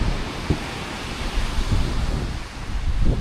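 Ocean surf on an empty Puerto Rico beach, heard as a soft, steady wash of waves mixed with gusty wind buffeting the microphone, faint and without voices.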